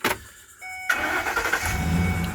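A van engine with a check engine light on cranks briefly, catches, and settles into a steady mid-pitched idle, close and fairly loud.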